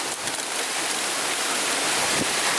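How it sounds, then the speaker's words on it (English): Steady rain pours down across a balcony garden in Mumbai with wind blowing through, a dense, continuous hiss of drops on surfaces filling the whole space close up, with no talk. "See this, winds and rain."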